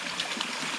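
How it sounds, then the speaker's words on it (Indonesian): A shallow, clear-watered river stream flowing over a slippery bed on a forest walk, a steady soft rushing and trickling close by, brief and with no voices. "ada sungai teman"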